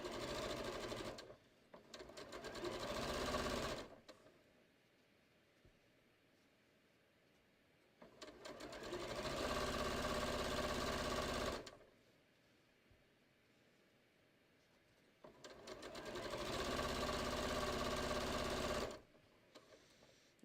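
A sewing machine joins fabric strips for patio cushion covers in three steady, moderately loud runs, each lasting a few seconds, with quiet gaps between them.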